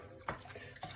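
Water sloshes as sea salt brine for smoking whiting is stirred in a container, a few quick faint swishes in close succession.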